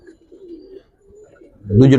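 A Giribaz high-flyer pigeon coos softly and close by in a low, wavering murmur, followed by someone speaking loudly.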